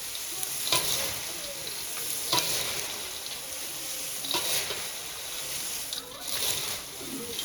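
Puffed rice chevdo being stirred with chili powder, a dry rustling scrape with sizzling and occasional sharper scoops, steady and close throughout.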